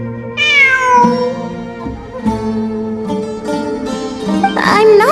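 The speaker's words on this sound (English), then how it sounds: "I'm not hearing things. It really is a cat." A cartoonish cat meows repeatedly in the video game Genshin Impact, with bright, tonal mews rising and falling over a steady musical game soundtrack.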